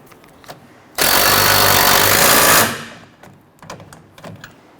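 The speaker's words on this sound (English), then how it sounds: "I'm going to run that down with our impact driver." Pneumatic-style impact driver running a nut down onto a rear sway bar link stud on a 2006-2014 Honda Ridgeline, a loud, steady buzzing burst of about two seconds that winds down, with faint clicks of handling around it.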